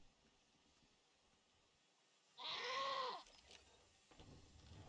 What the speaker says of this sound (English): Annoying goat sound.